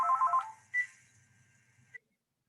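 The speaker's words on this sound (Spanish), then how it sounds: "permítame un segundo que voy a suspender el teléfono para que no nos interrumpa" A phone plays a short electronic ringtone with a quick warbling pattern. Brief tones follow and then it is cut off into silence. No one speaks over it.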